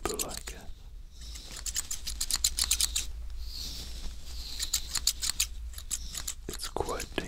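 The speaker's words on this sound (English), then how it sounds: "Scissors close to your ears." Scissors snip rapidly and repeatedly right beside the ears during an ASMR barber haircut, crisp clustered cuts in quick rhythm with soft rustling and faint whispering between bursts.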